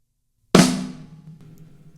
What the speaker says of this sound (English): So the first drum that we're hitting in this drum fill is the snare drum,